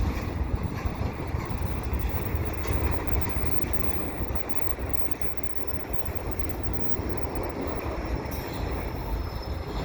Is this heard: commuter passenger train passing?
yes